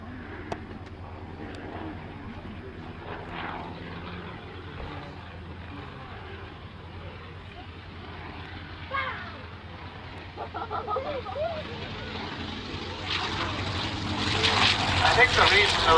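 Reproduction Bristol M1C monoplane fighter flying at an evening air display, its propeller engine droning steadily at a distance and growing louder near the end, with a person talking over it.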